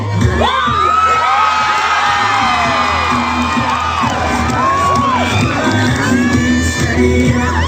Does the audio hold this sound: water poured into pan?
no